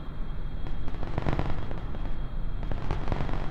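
Cluster bomb explosions in Kerbal Space Program with the BD Armory mod, a rapid crackling string of small blasts and pops rolling together for a few seconds, steady and dense like a firecracker barrage.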